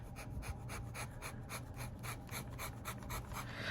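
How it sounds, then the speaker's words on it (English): A rapid, rhythmic scratching of a Lamy Safari fountain pen's scratchy nib on paper, steady repeated strokes close up, with a soft background hiss. "is what actual scratchy nib is like"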